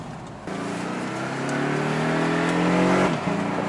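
A 2017 Porsche 718 Boxster pulls away in sport mode, its exhaust rising in a loud, climbing rev through a single gear for about two and a half seconds before dropping sharply on the upshift.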